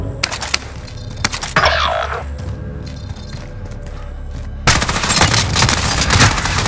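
Gunfire in Call of Duty: Modern Warfare Warzone: loud bursts of rapid automatic shots, a quieter stretch with sparse reports and mechanical clatter, then a renewed heavy barrage of close-range fire.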